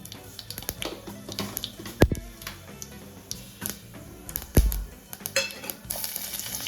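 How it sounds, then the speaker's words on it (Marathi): Mustard seeds hit a spoonful of hot oil in a pan for tempering, crackling and ticking in scattered pops, with two sharper metallic knocks against the pan. "त्याच्यात टाकूया मोहरी"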